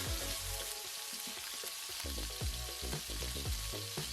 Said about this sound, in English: I'm going into a preheated hot pan.